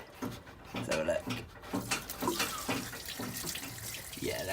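Old coolant drains from a Datsun engine in a steady, splashing trickle like running tap water, continuous and moderately close with a few knocks.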